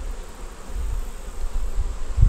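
Honey bees hum steadily around an open hive during a beekeeping inspection, a low, continuous drone close by with no other sounds standing out.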